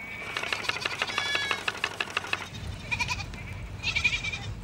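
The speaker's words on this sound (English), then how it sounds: "Oh, look at those sheep." Sheep shorn for wool at a woollen mill bleat in a quick series of calls, then fall quiet and call again, close and clear with no talking.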